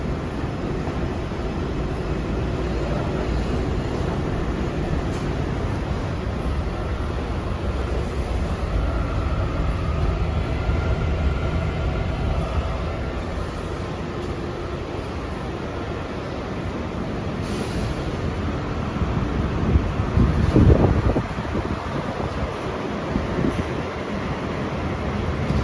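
An NYC Subway R142A 4 train rides toward 149th Street, a steady loud rumble of wheels and rushing air inside the car, with a brief clattering swell near the end.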